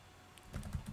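A few soft keystrokes on a computer keyboard, nearby but quiet, over a steady background hiss in a short burst.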